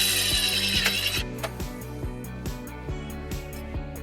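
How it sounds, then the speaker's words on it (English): A hand ratchet drives a self-tapping ground screw into the underbody of a 2018 Hyundai Kona beneath the rear threshold panel, giving rapid close clicking strokes with brief pauses between pulls. "we're going to ground it right underneath where our rear threshold panel goes using the provided self-tapping screw"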